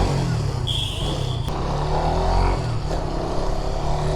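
A Suzuki GSX-R sports motorcycle engine idles and revs nearby, a loud, steady mechanical roar with a brief high whine and some background voices.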